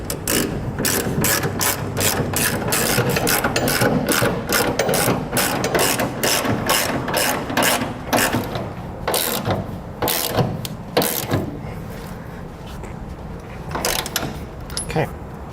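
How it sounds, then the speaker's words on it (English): A ratchet with a 24 mm socket tightens the side plate bolts of an underbed gooseneck hitch on a 2016 GMC Sierra, giving a fast, loud, continuous clicking that slows into spaced strokes, with a voice talking over parts of it. "we can now tighten down our side plate bolts here with a 24 millimeter socket"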